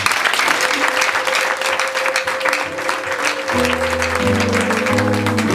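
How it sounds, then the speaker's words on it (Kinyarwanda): A church congregation applauds in loud, sustained clapping that fills the room, with music and voices carrying underneath. "Reka ngusabe gukomera Imana amashyi menshi cyane."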